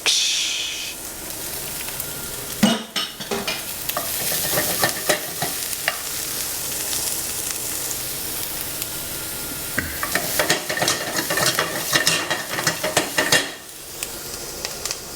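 Loud, steady sizzling of scallops searing in a hot pan, with occasional scrapes and clinks of a utensil stirring.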